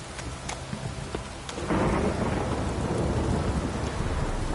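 Rain and thunder in The Witcher 3 video game: steady rainfall hissing on surfaces, a few faint cracks early, then a louder swelling rumble of thunder that rolls on under continuing rain.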